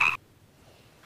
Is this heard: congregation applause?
no